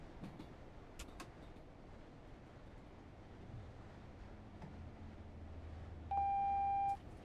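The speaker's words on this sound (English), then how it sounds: "So that alarm means that the signal is either at yellow or red, and that I have to acknowledge that fact" A cab warning alarm for a yellow or red signal in a train-driving game sounds as a single steady tone lasting under a second, over a quiet rumble of a moving train.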